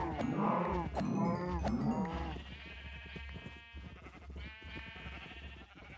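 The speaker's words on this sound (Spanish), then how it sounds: "vamos a matar unas cuantas vacas" Cows in the video game Minecraft moo loudly in several drawn-out calls for the first couple of seconds, then a softer, busier farm-animal din carries on with no talk.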